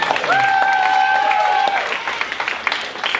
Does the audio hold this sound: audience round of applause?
yes